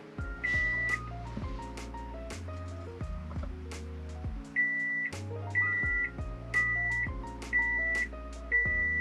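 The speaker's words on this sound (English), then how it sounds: "deleting the super annoying seatbelt chiming and beeping in the Subaru Forester" A Subaru Forester's seatbelt warning chime sounds repeated high beeps at a regular pace over a backdrop of sustained musical tones.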